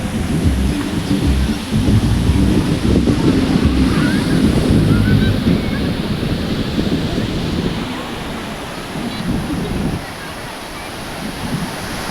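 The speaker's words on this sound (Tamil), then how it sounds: "அலை பெரிய அலை கிடையாதுங்க இது ஒரு சின்ன அலை தாங்க" Small ocean waves break on a beach in a steady, loud, rushing wash with rumbling wind noise across the microphone, easing slightly toward the end.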